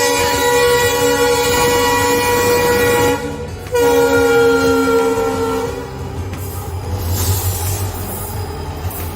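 A train rumbles loudly past, its horn sounding in long sustained blasts that break off briefly, then the rolling noise fades.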